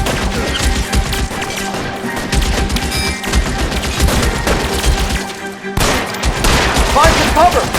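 Loud gunfire in a shootout in L.A. Noire, overlapping pistol and rifle shots in irregular bursts, with a brief lull before a heavy volley at the end.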